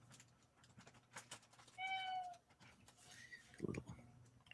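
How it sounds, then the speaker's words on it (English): A pet cat gives a short, quiet mew, a single rising-falling call in a room, surrounded by soft background noise and faint speech. "Kitty, do you need a little frisky treat? You're mewing."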